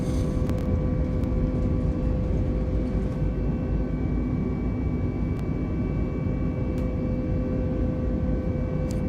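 Airliner in Microsoft Flight Simulator 2020 during takeoff and initial climb out of Bilbao, a steady loud engine roar with a constant broadband rumble and faint tonal whine throughout, no voices.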